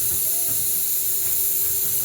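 A pressure cooker holding coconut flowers hisses with a steady, loud jet of steam, a constant high rush with a faint low rumble beneath and no pause.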